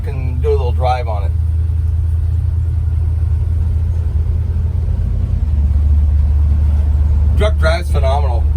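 A 1962 Chevy pickup truck with a 1964 cab and front end rumbles steadily while driving, its low engine drone constant throughout as someone talks briefly at the start and again near the end.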